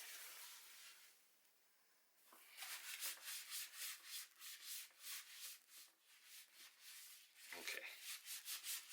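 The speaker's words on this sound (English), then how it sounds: "I'm just going to quickly wipe the top side, maybe with a little bit of rubbing alcohol, just to clear out any grease residues." A cloth soaked in rubbing alcohol is rubbed briskly back and forth over the top of a VFC MK48 replica gun to strip grease before painting, a soft rhythmic swishing close to the mic, with one brief spoken word at the start.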